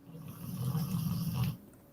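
A single deep, rumbling snore from a dog close by, swelling for over a second and then trailing off into quiet breathing.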